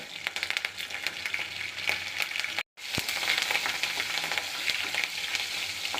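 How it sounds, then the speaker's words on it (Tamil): Curry leaves, chillies and spices sautéing in a pan for Chettinad chicken curry, a steady close sizzle with rhythmic stirring scrapes, briefly cut to silence partway through. "நல்லா வதக்கணும் இதெல்லாம் கருவேப்பிலை"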